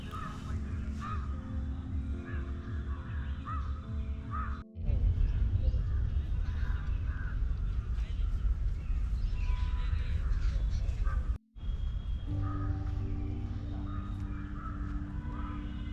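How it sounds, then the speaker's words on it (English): Crows caw repeatedly among other birds calling outdoors near a mausoleum in Ayodhya, with loud, steady background noise running through and two brief cutouts. "Just see how beautiful the birds are."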